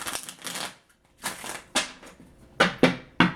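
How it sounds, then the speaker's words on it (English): Tarot cards are shuffled by hand nearby in a series of crisp, riffling bursts separated by short pauses, with no talking. "Do a little shuffling here."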